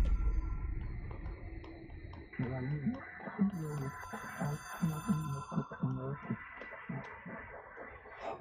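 A ringing telephone in the video game Control, an object of power with a direct line to the astral plane, sounds as a faint, hollow tonal ring under an ongoing voice and a low ambient hum.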